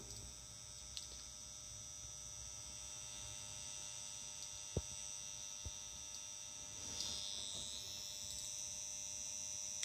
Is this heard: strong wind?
no